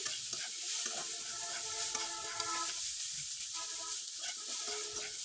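Fried chickpeas being stirred in a pan, a steady scraping and clinking under a soft continuous sizzle, close and fairly quiet throughout with no talking.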